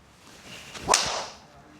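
A quick swish rises into a crisp, sharp click of a Titleist GTS driver hitting a golf ball, then the whoosh trails off quietly.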